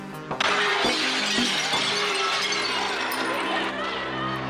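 Storefront glass breaks as protesters smash into luxury stores in Soho, Manhattan, during the George Floyd protests: a loud crash, then a sustained clattering of shards and debris for several seconds, close by.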